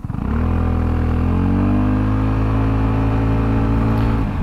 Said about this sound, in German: Ich mache mal einen kurzen Beschleunigungstest von 0 auf 70.